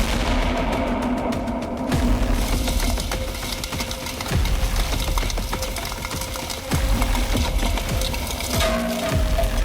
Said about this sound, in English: the machines take on the forest, cutting down trees with raw power and pinpoint precision